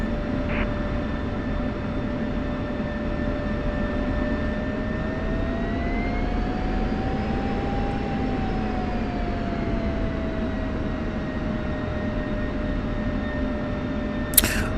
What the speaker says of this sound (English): Is that a GA aircraft?